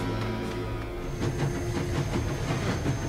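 Train rumbling in the side-scrolling action game Shank, a steady low roar with faint rhythmic clacking building slightly in the second half, with no voices over it.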